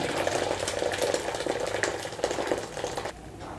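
Water bubbles and rattles inside a Borosil electric kettle, a close, busy, steady boiling sound that suddenly drops quieter near the end.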